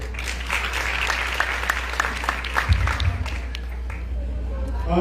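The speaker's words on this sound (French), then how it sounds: "Sur votre applaudissement, s'il vous plaît." An audience breaks into sustained applause at a ceremony, dense continuous clapping mixed with crowd murmur and a few voices, swelling slightly toward the end.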